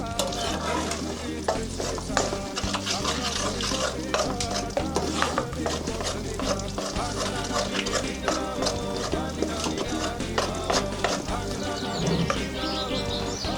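Butter sizzles and fries in a pan for borano, a dense continuous crackle with stirring scrapes, close and steady throughout.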